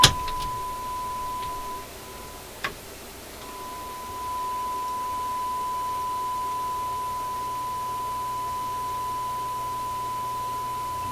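A steady pure test tone from a signal generator, used to align the AM band of a Rogers Majestic 7M632 vacuum tube radio, hums continuously at one pitch, briefly dropping out once, over a faint background hiss.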